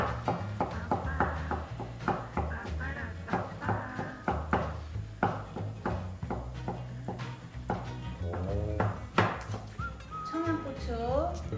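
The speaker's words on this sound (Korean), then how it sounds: "지단을 썰을 때는 이렇게 김밥 마냥 이렇게 말아요. 말아서 반을 잘라요." A knife cuts through a rolled-up egg crepe on a cutting board, a run of quick, close, crisp chops repeating steadily while people talk over them.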